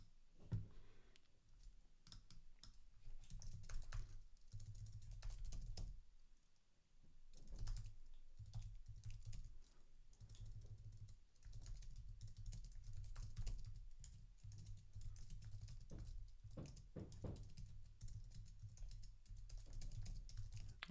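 Computer keyboard typing at a desk, quick irregular bursts of key clicks with brief pauses between them, close and fairly quiet over a low room hum.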